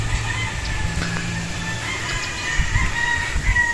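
A Joe Goode Grey gamefowl rooster on a Philippine game farm gives a brief clucking call at middle distance, with other birds faintly around it and steady outdoor background noise.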